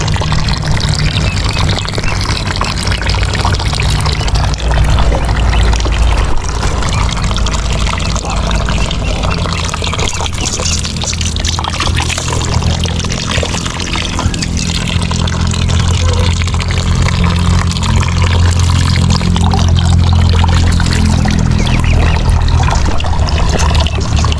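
Water rushes steadily through a newly laid water line for ducks and chickens, a loud continuous pouring wash with no pause and no voices.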